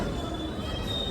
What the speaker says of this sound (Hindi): रुक रही है अपनी ट्रेन।